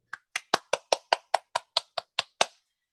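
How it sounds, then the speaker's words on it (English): Eleven crisp, evenly spaced hand claps from a single person in an online Toastmasters club meeting, close and isolated against silence. "Let us give her a big round of applause"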